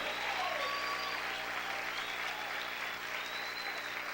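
Church congregation keeping up sustained applause in praise, a continuous even roar of many clapping hands with scattered cheers and voices on top.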